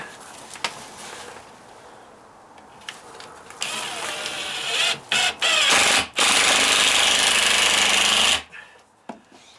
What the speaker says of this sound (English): See, that ratcheted. That works really good. Ratcheting it like that.